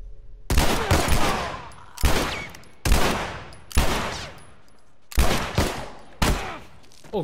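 Enemy gunfire in The Last of Us Remastered, in the sewers: six loud, sharp bursts of rapid shots, each cut off by a brief lull, ring out one after another.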